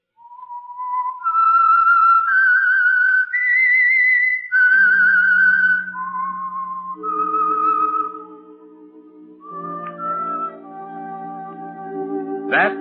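A melodic whistled theme tune of the radio drama The Whistler rises and falls over about thirteen seconds, loud and clear, with an orchestral backing joining in partway through.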